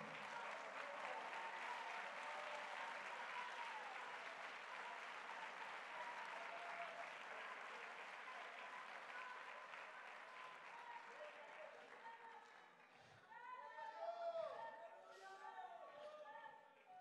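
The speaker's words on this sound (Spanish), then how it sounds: "Palmas de alabanza, por favor." A church congregation claps in praise, steady dense applause that holds for several seconds before thinning out, with a preacher speaking over the end.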